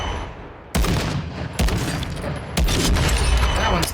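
A bullpup sniper rifle firing in a video game: three sharp, loud booming shots about a second apart, each ringing out with a lingering tail into the next.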